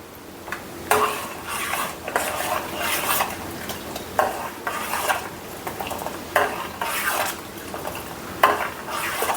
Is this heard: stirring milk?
yes